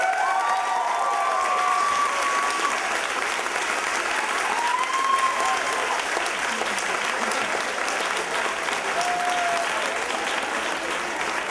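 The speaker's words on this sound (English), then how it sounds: "Big round of applause for Angela." Sustained audience applause with scattered cheers and whistles at a storytelling slam event, steady and full throughout, with faint voices mixed in.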